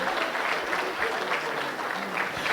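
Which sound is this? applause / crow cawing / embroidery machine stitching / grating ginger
applause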